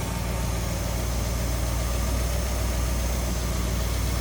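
A 1956 DeSoto Firedome V8 idles smoothly and steadily, a low even rumble held close and constant with no voices over it.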